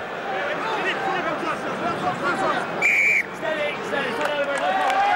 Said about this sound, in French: Spreadbury qui a sifflé rapidement